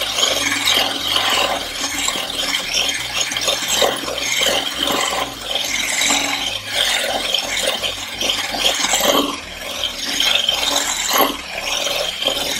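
Macaron batter being whisked, a steady scraping, rattling mechanical whir that runs loud and continuous throughout with small rhythmic variations, no voices.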